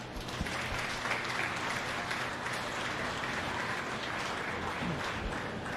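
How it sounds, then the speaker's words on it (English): Steady, dense audience applause fills the ring at the Ripley County beef show after the steer class, a continuous close wash of many hands clapping with no voices on top. "I definitely think they deserve another round of applause for that."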